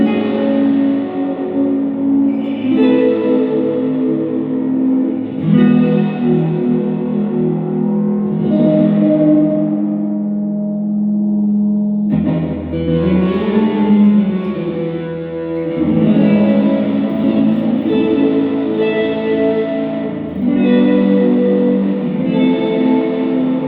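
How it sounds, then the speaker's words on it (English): Fender Jazzmaster electric guitar played through a reverb effect, sustained chords washing into long reverberant tails, loud and continuous with no talking. "So you can affect the gain of just the reverb signal."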